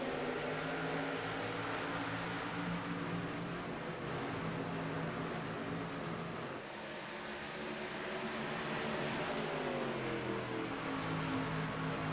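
Engines of a pack of ARCA stock cars roar together at the green flag on the Charlotte Motor Speedway oval in a racing video game, a dense, continuous, loud drone with shifting pitches as the field accelerates.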